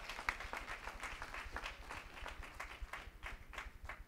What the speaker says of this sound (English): Let's give Deacon Arnold Tyson a great big round of applause for a life well lived.